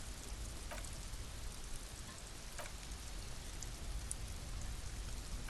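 Steady rain ambience from the video game Disco Elysium, a continuous even hiss of falling rain with faint scattered drips and ticks, no voices, holding at a constant moderate level throughout.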